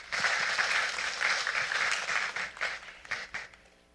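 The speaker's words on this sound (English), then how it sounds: "if we could just give a round of applause." Audience applause at a sustainability conference, a dense burst of clapping that swells quickly, then thins and fades out over a few seconds.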